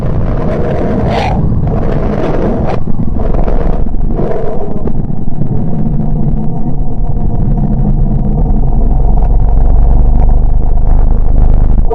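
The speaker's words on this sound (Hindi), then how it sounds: "बुध की मैग्नेटोस्फीयर से उत्पन्न रहस्यमयी ध्वनियां।" Sonified recording of Mercury's magnetosphere from the MESSENGER spacecraft, heard as a loud, continuous rumbling roar with swooshing surges that swell and fade.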